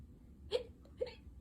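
A reader imitates a skeleton's hiccup, voicing two short, sharp hic sounds about half a second apart, quiet and close, with faint room tone between them.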